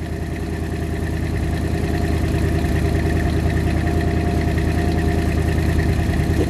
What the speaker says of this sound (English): So it sounds like it's a little high idle right now